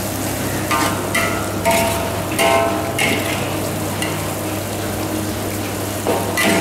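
Long beans and yellow pumpkin are stir-fried with spice paste in a hot pan, producing a loud, close, continuous sizzle broken by repeated scraping stirs every second or so, with no talk.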